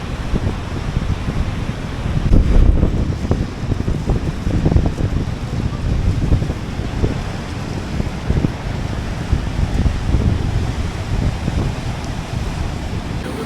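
Mighty ocean waves with foam crash and roll continuously on the Tenerife shore, loud and close, mixed with strong wind buffeting the microphone.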